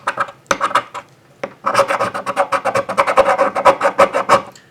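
A knife blade scraping a Coghlan's magnesium fire starter block in quick repeated rasping strokes, close and loud, with a brief pause before a steady run of scrapes.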